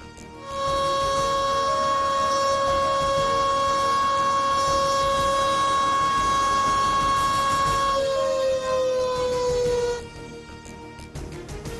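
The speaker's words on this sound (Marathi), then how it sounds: "तर पख्तूनमध्ये नागरिकांना अलर्ट करण्यासाठी सायरन बसवले." A civil defense alert siren in Pakhtunkhwa, Pakistan holds a loud, steady wailing tone for about nine seconds, its pitch sliding down near the end before it cuts off, with no voices.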